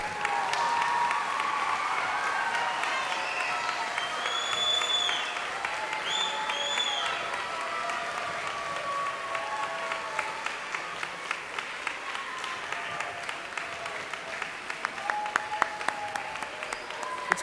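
An intermediate school awards-day crowd applauds the award winners in a gym or hall. The sustained clapping continues with scattered cheers and whistles and a few sharp individual claps that stand out near the end.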